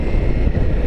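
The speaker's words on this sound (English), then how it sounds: "there's just a lot of wind" Steady, loud wind buffeting a microphone outdoors during a ride on a Ducati Multistrada V4S motorcycle, a continuous low roar that fills the whole moment with no speech.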